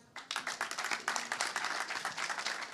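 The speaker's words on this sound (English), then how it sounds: "Round of applause." Audience applause at a business-day session of a sustainability pavilion at a climate summit, a steady round of many hands clapping fairly close, dense and even for nearly three seconds.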